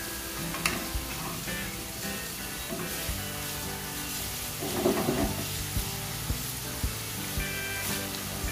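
Chili, garlic and onions fry in hot oil for homemade chili garlic oil, giving a steady close sizzle with crackling and stirring bursts all the way through.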